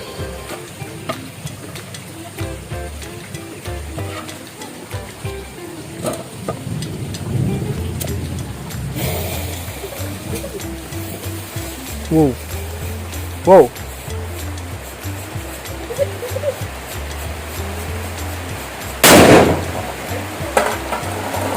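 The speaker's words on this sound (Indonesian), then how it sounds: "petasan happy flower atau petasan disco di dalam kaleng ya teman-teman" A Happy Flower disco firecracker goes off inside an empty Monde tin can, giving a sharp, loud bang that throws the can, after a stretch of crackling and rumbling ambient noise with a person's voice nearby.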